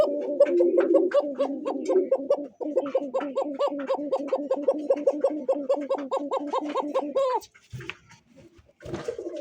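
Rajgolla racer pigeons cooing: a steady run of throaty coos repeats close by, then a brief clatter of handling noise, then the cooing starts again.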